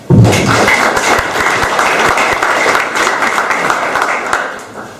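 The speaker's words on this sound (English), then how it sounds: "I'd also like to give a round of applause for Ford US" Dense audience applause at a startup conference event, loud and close, rising quickly then sustaining a steady wash of clapping for several seconds before thinning out at the end.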